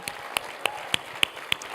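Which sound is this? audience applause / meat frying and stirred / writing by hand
audience applause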